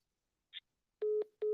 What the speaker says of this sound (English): Phone got disconnected.